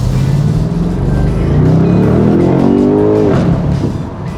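A BMW M850i accelerating hard in sport mode, its engine note climbing steadily in pitch over several seconds, loud and close from inside the car with no talking.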